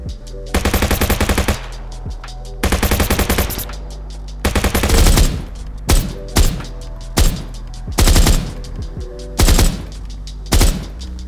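Weapons fire at a shooting range in a multiplayer first-person shooter video game: loud, close bursts of rapid automatic gunfire alternate with shorter volleys and brief pauses.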